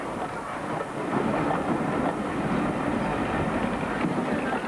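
Locomotive 47383, a shunting and pilot class engine, running on a railway line, giving a steady, dense rumbling roar that holds evenly throughout with no voices.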